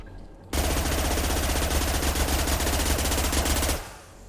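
A Tempest rapid-fire gun in Mass Effect 2 unleashes one continuous, loud burst of fast automatic shots lasting about three seconds, starting abruptly and cutting off sharply.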